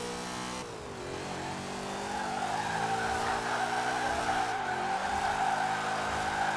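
A drift van in Forza Horizon 4 holds a loud, sustained engine roar that rises and dips in pitch while tires squeal continuously through the slide.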